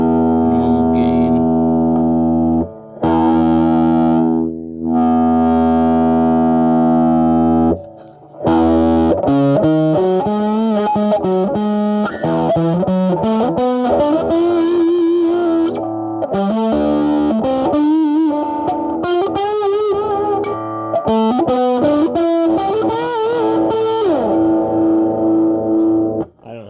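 A 1988 US-made Peavey Rage 12-watt guitar amplifier on its normal gain channel, played with a bare finger instead of a pick: sustained chords, then a run of quick notes and phrases with a slightly dirty, effected tone, loud and close throughout.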